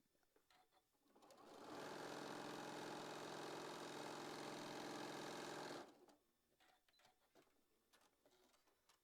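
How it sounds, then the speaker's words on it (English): A sewing machine stitching a quarter-inch seam on a quilt block runs in one steady, loud whirring burst of about four seconds, with quiet handling noises before and after. "if I sew my 1/4 inch right there on the edge, I shouldn't be losing any of my points"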